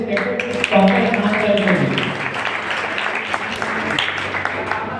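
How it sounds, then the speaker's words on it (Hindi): Audience applause at a polytechnic college farewell party rises at first, then continues as a dense patter that gradually thins and softens. "एक बार फिर से जोड़ना ताली बजाएं।"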